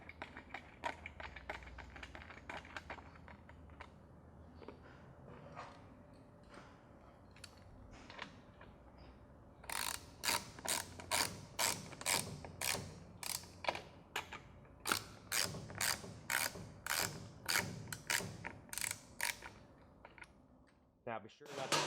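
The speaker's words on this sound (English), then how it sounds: "Screw your brush cover bolts" Ratchet tightening the plastic brush cover bolts on a Tennant 1610 floor scrubber, a series of close, sharp clicking bursts in regular runs after quieter handling noises.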